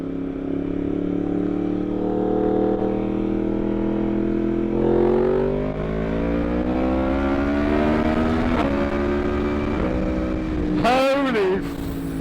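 A Yamaha MT-10 first-generation motorcycle engine, very loud and close, revs steadily upward with rising harmonics through the test ride, ending in a sharp throttle blip and warble near the end.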